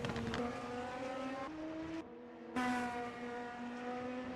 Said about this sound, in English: Those pop and crackles of the engine sound beautiful.